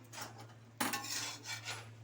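A metal lid lifted off a cooking pot of vegetable curry, a single clanking scrape followed by a brief rattle and hiss of released steam, close and alone.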